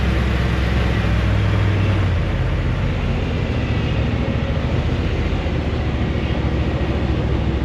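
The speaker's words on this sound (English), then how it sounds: "Does sound like a big old truck, but it's good acceleration." A lifted Ford Dentside F250 4x4 high boy with a 400 V8 and three-speed automatic drives along, its engine producing a steady, heavy rumble with broad road noise throughout.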